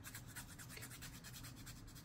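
A nail file rasps rapidly back and forth against a fingernail in steady, quick strokes. The scraping is faint and close, with no talking.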